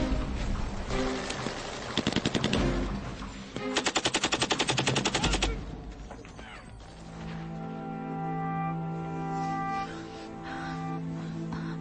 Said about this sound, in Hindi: झाड़ियों में फायरिंग करो 300 मीटर नॉर्थ की तरफ, जल्दी।